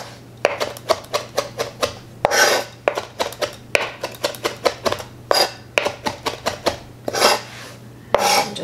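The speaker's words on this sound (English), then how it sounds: "once you remove your leaves from the thyme stems, you're just gonna give them a little chop," A knife chops fresh thyme leaves on a cutting board in quick, crisp taps, arranged in short rhythmic runs with brief scraping sweeps between them, close and clear.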